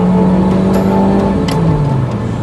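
A 1995-era Ferrari 355 engine revs steadily while driving, a loud continuous mechanical drone with a rising and falling pitch over the full length, close and dominant with no talk.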